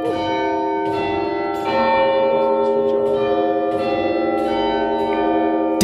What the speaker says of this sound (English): you said a bell was going to ring any second